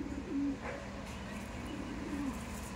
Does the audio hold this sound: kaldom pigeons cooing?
yes